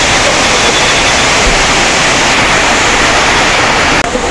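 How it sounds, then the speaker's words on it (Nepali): Rainwater pours off a roof during heavy rain in a loud, unbroken rushing wash of noise, very close, that cuts off abruptly at the end, with no voices. "यहाँ छानाबाट पानी खसिसक्यो"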